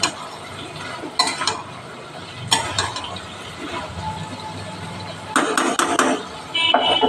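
Spices and vegetables, including taro stems, pumpkin, potato and ridge gourd, sauté in a pan that is covered and uncovered by turns. A faint, steady sizzle sits under bursts of metallic clanks from the lid and a spatula.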